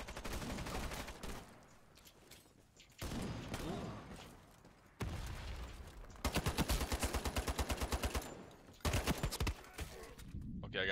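Gunfire in the first-person shooter Ironsight, with a Scar H rifle among the weapons. Bursts of rapid automatic fire, some long rattling strings, alternate with short quieter gaps. The shots are moderately loud, and no one talks.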